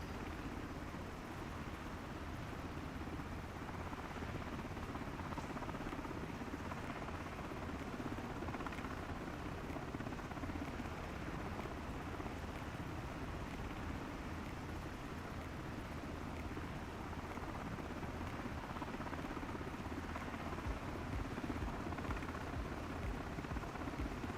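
Miltech MH60T helicopter in MSFS 2024 descending to land near Girdwood, its steady rotor and turbine drone continuous and loud throughout without breaks, no voices heard.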